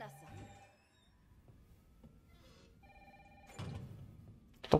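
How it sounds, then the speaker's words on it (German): Telephone ringing inside the video game Resident Evil 3 Remake, with repeated electronic ring bursts and pauses between them over a dim, quiet background, ending in a louder burst. "Ich glaube, dass das Telefon klingelt."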